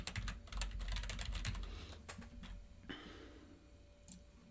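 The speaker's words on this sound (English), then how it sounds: "please don't mind me as I type on my keyboard and don't say anything" Fast, irregular clicking of keys on a computer keyboard, close and fairly quiet, with bursts of rapid strokes separated by brief pauses and no talking.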